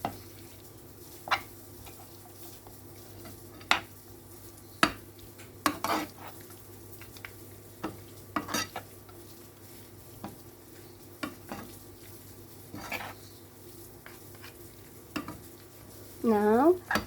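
Meat stuffing with fried pine seeds being mixed in a pan, a faint low sizzle beneath intermittent sharp spoon knocks and scrapes against the metal, spaced irregularly, with a brief voice near the end.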